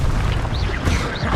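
An Incendio fire spell cast in Hogwarts Legacy gives a sustained roaring whoosh of flame with a low rumbling body and brief higher swooping flourishes, loud and close.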